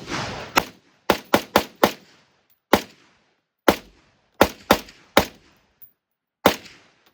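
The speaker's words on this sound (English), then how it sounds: "Go ahead and let off a few rounds, see how it works." AR rifle firing about a dozen sharp, loud shots at an outdoor range, some in quick runs of three or four and others spaced apart, each with a short decaying echo.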